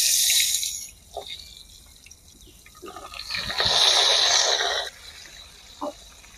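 Masala-stuffed brinjal goes into hot coconut oil with mustard seeds and curry leaves. A burst of sizzling hiss comes at the start and a longer, louder one midway, with faint clicks in between and no talking.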